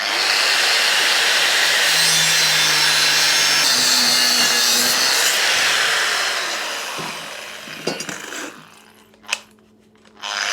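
A power tool cuts off a part on a BMW GS motorcycle project with a loud, sustained, harsh roar for several seconds, then winds down into scattered knocks and clatter nearby.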